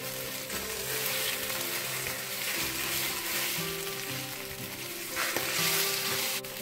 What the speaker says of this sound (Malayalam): ഞാൻ അധികം ഇളക്കി പൊരിക്കുന്നില്ല, കുറച്ച് വലിയ വലിയ കഷ്ണങ്ങളായിട്ട് മുട്ട കിടന്നോട്ടെ.